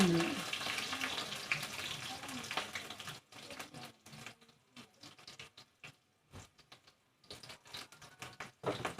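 Green chillies frying in hot oil for a homemade veg palla dish, crackling and sizzling loudly at first, then settling into softer, intermittent spattering bursts close by.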